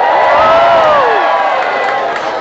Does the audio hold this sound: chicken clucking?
no